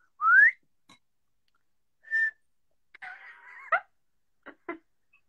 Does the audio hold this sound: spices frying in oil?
no